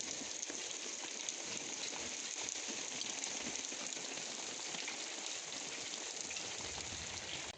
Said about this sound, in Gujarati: મિત્રો મસ્ત મજાનો વરસાદ આવ્યો આજ